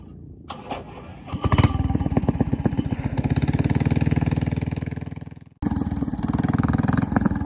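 A motorboat engine runs steadily on Thale Noi lake in Phatthalung, Thailand, as the boat turns back; the close, throbbing motor revs up, briefly drops away, then resumes loudly.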